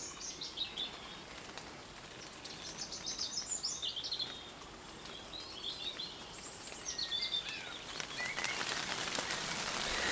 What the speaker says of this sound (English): The birds are all singing despite the rain.